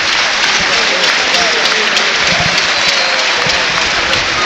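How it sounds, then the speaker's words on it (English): Applause spreads around the ground at Craven Cottage during Fulham v Brighton & Hove Albion as a player is substituted, a loud, dense, sustained wash of clapping from a large football crowd. "Sander Berger comes off to applause from around the ground here at Craven Cottage."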